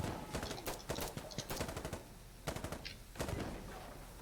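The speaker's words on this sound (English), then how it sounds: "Now I have a machine gun." Rapid machine gun bursts fire in Insurgency: Sandstorm, several quick volleys with short pauses between them over a steady background din.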